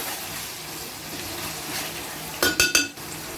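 Chicken cooking in avakaya mango pickle oil in a pan, with a steady low sizzle and a few sharp metallic clinks of a utensil against the pan near the end.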